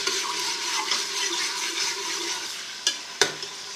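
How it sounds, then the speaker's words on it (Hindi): Steady loud sizzling of garlic-ginger paste frying in hot oil for mutton korma, with a couple of sharp scrapes or taps of a utensil near the end. "और इसको फ्राई करेंगे कुछ देर।"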